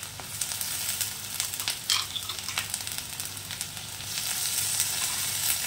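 Two teaspoons of ginger garlic paste sizzle in a pan with already fried onion and capsicum for a paneer butter masala. The crackle is steady and close, with a few stirring scrapes and no talk.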